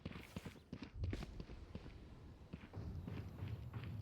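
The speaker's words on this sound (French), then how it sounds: "j'ai entendu un bruit de pas" Footsteps in a Valorant-style tactical shooter match, a quick run of soft thudding steps at moderate distance, faint and somewhat muffled against game ambience.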